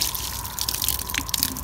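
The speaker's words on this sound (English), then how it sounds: "just bring a flask of boiling water with you and pour it over the whole tap." Boiling water pours from a flask over a frozen outdoor tap in a stable yard, giving a continuous splashing trickle with small drips and spatters, close and fairly steady.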